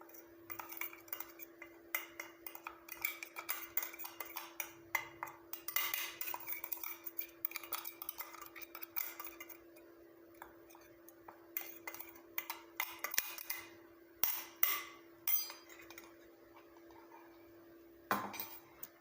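A pan of onion and curry leaf powder being stirred and dry-roasted, with irregular close metallic scrapes and clinks of a utensil against the pan, in bursts with short pauses and a faint steady hum behind.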